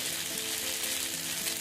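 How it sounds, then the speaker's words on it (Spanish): Cauliflower in tomato broth sizzles in a cooking pot, a steady, even frying hiss with faint bubbling, close by and moderately quiet, with no voices. "Que chille nuestra cacerola, miren qué sabroso."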